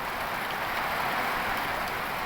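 Heavy rain pours down amid strong, gusting wind, a dense, steady wash of noise that fills the whole stretch evenly at moderate loudness, with no voices.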